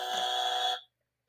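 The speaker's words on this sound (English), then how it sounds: "Hit the buzzer for that one." A loud game-show style buzzer blares once as a single harsh, steady tone lasting under a second, then cuts off abruptly into silence.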